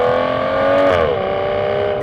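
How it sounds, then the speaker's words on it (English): Aston Martin Vanquish engine revving steadily, with its harmonic tone climbing and then dropping in pitch as it shifts through the manual paddles, loud and close with no talking. "I can make the engine sound however I want"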